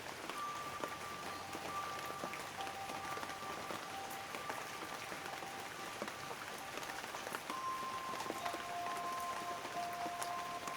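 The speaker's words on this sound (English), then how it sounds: "An abundance of water drops through the canopy." Raindrops dripping through dense forest canopy on Pico Island in the Azores, a steady soft patter of many drops on leaves with occasional louder nearby plinks and faint bird notes behind.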